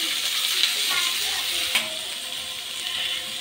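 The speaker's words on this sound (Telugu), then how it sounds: "ఆనియన్స్, పచ్చిమిర్చి అయితే వేసేస్తున్నాను. ఇలా వేసి బాగా మగ్గనివ్వాలి." Onions and green chillies fry in hot oil with a steady bright sizzle, and a few soft stirring clinks sound near the start and middle.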